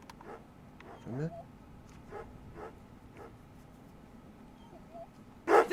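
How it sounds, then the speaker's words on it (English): A dog in Remothered: Broken Porcelain whimpers and yips in a few scattered soft sounds, then barks sharply and loudly at the very end. "Filthy dog! What do you want now? Be quiet!"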